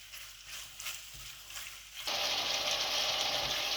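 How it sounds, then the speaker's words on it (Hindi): Mutton chops frying in a pan of spices, first a faint crackle, then a loud, steady broadband sizzle that swells abruptly halfway through and holds without talk. "मैं भून रहा हूँ चाप को"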